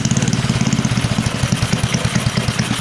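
An Arco twin engine running through its warm-up cycle, a steady, rapid chugging idle with an even pulse, loud and close with no voices.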